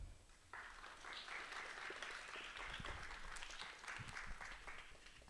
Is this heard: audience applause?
yes